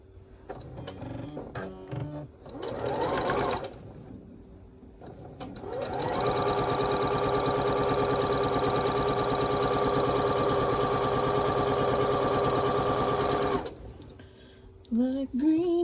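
A sewing machine stitches a quilt block from corner to corner, starting with short hesitant runs and then a long steady whirring hum of the motor and needle, close and loud, before stopping.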